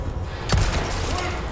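A single heavy gunshot from the Resident Evil 4 remake cracks out loud and close, then decays into a brief ringing tail over low game ambience.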